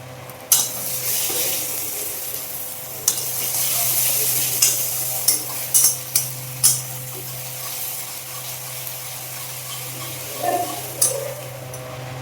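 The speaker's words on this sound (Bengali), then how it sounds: "পেঁয়াজটা ভালো করে ভাজার জন্য একটু দিয়ে দিব চিনি, যাতে পেঁয়াজটা ভালো করে লাল লাল ভাজা হয়" Onions frying with sugar until browned crackle and sizzle steadily in a pan, with intermittent sharp clinks and scrapes of stirring over a continuous low hum.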